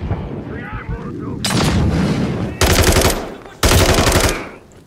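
Heavy automatic gunfire in Modern Warfare 3 comes in three loud, close bursts of rapid shots, each cutting off sharply, with a low rumble and faint voices before the first burst.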